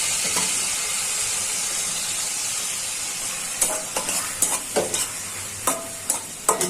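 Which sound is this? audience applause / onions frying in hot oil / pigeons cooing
onions frying in hot oil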